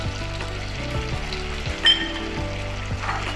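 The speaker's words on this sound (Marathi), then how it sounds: "इथं यामध्ये आपण शिजण्यासाठी म्हणून किंचित अगदी पाव वाटी पाणी घालून घेऊया" Water goes into a hot mango tempering for a sweet-sour Goan mango sasav, raising a close, hissing sizzle with a brief louder burst partway through over a low steady hum, and nobody talks.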